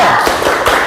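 An Indonesian primary classroom does a rhythmic group clap: a few quick, loud hand-claps in a short burst, close and full.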